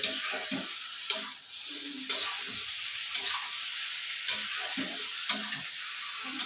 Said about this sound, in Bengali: এইভাবে আস্তে আস্তে কষাতে হবে।